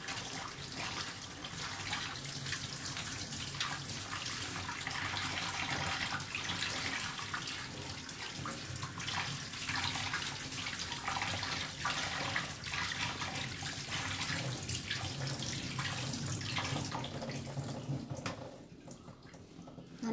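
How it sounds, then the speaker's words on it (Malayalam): Tap water runs steadily over cut ash gourd pieces being washed in a kitchen sink, a continuous close splashing hiss that carries on without pause and eases off at the very end. "ഇനി കുമ്പളങ്ങ നന്നായി കഴുകി എടുക്കട്ടെ."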